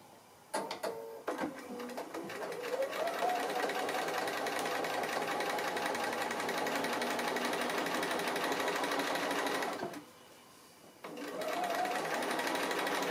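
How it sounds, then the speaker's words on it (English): A sewing machine does free motion stitching on a tree appliqué shape, a fast steady mechanical whir and needle chatter that speeds up and runs for long stretches, pausing briefly once before restarting, close and alone. "just a little bit of free motion stitching, it's fun to do. Stitching on the applique shape but just close to the edge"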